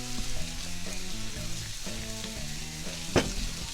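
Soy sauce hissing and sizzling in a hot pan while shrimp lo mein cooks, a steady fry with stirring scrapes and one sharp clink near the end.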